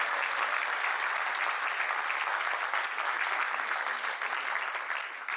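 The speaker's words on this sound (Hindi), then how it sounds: "एक बार आपके लिए तालियां बजाकर करूंगी।" Enthusiastic applause from an audience at a Hindi comic poetry gathering, a continuous dense clatter of clapping that holds steady and fades slightly at the end.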